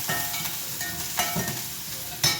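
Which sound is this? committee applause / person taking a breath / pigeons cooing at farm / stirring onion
stirring onion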